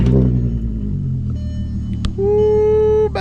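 A 2003 VW MK4 GTI VR6 engine runs at a steady idle with a deep low rumble, then a brief rev lifts into a sustained higher hum near the end, with no talking.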